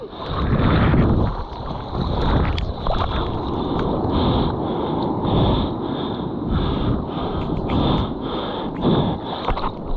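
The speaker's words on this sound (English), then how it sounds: "Paddle forward, Maxim." Paddles dip and stroke through water on a boat ride off Bali, with steady splashing and wind buffeting the microphone throughout, and no talking.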